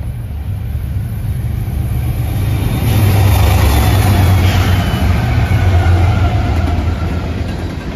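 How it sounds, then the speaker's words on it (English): Norfolk Southern freight NS-61W, an empty frac sand train led by three locomotives with a CP SD70ACU second, rolls past at Oak Harbor, Ohio. It is a steady, loud, close rumble that swells midway. "we're in Oak Harbor to catch this NS-61W with a CP-SD70-ACU trailing second of three"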